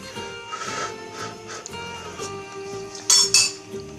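A small spoon clinks against a pot of chestnut-cream rice pudding, with a couple of sharp, bright clinks close by. Before them come softer scraping and handling sounds.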